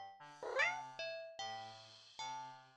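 A cat meows repeatedly in a video game, about five distinct mewing calls in a steady sequence, clear and close, with no speech over them.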